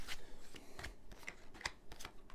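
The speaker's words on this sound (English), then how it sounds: "just laying down your 10 cards on the table so we could shuffle" Tarot cards shuffled on a table, a string of soft papery riffles and slaps in irregular bursts, close and quiet.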